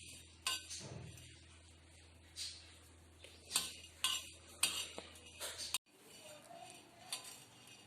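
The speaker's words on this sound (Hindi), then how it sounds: "काली मिर्च और लौंग को भूनेंगे" A spoon clinks and scrapes against a pan while black pepper and cloves dry-roast over a slow flame, sounding as scattered metallic taps and rattles with quiet gaps between them.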